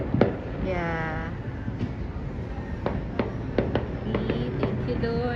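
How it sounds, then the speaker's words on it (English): Distant Fourth of July fireworks pop in a series of sharp, scattered bangs about a second apart over steady outdoor background noise, with voices and crackles in between. "I'm watching fireworks here."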